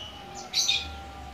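Quick high-pitched chirps from a green leafbird and white-eye birds, a short faint cluster of calls over low steady background hum.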